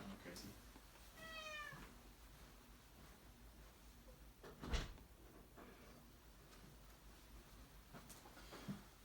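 A cat meows a few times in short rising calls, fairly close, with light household knocks and a thump in the background.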